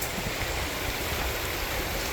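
A creek flows beside a hiking trail, giving a steady, even rush of moving water with no other sounds.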